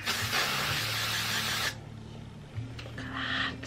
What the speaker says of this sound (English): and then you just hair spray